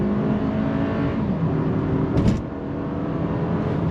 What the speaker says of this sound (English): On throttle. Gets the power down and we're off.